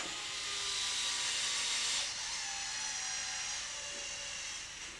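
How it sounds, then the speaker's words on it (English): A small electric screwdriver whines steadily up close while working on the rear differential of an XMaxx RC truck, its high pitch sliding lower as the motor slows down, with no talking. "I forget that I can slow this screwdriver down as I get close"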